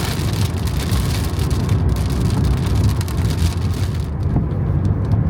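Heavy rain pours onto a road during a thunderstorm, a dense, loud, continuous hiss of drops hitting the surface, with no voices over it.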